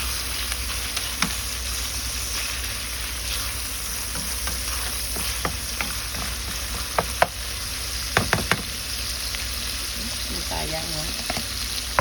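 Ground meat sizzles and fries in a pan for an eggplant dish, a steady loud hiss throughout with a few sharp clicks and scrapes of a utensil stirring, and no talking.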